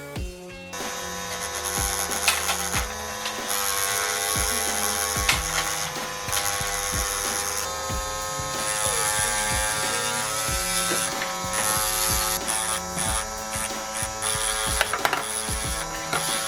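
A small power tool whirs continuously with a high buzzing drone, pitch wavering as it sands away plastic on a Spitfire scale model, close by with brief pauses.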